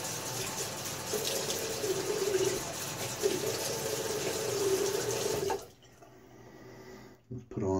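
Tap water runs steadily into a sink as the face is wetted before shaving, a continuous close hiss that cuts off abruptly near the end, followed by small splashes.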